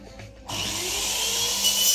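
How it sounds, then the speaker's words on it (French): A loud, steady power tool whine from home DIY work in the background starts abruptly partway through and keeps running, harsh and grinding, like a drill or sander nearby. "Désolée pour le bruit qu'il y a derrière, mon père bricole."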